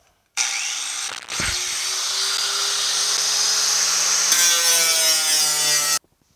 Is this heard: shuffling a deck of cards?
no